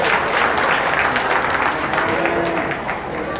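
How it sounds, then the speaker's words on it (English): Spectators at the 2024 Belmont County Beef Show clap for the cattle exhibitors, a full, close roar of applause that stays strong, then eases off near the end, with faint voices mixed in. "let's give all these exhibitors a round of applause"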